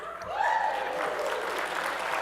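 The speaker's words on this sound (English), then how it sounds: "Not quite as enthusiastic a clap as the dates" Sustained applause from an audience at a convention closing ceremony, steady and moderately full, with a faint voice or tone rising briefly in the background.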